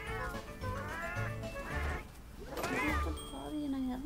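A house cat meows repeatedly at close range, several drawn-out rising and falling cries spaced a second or so apart, mixed with a person talking nearby.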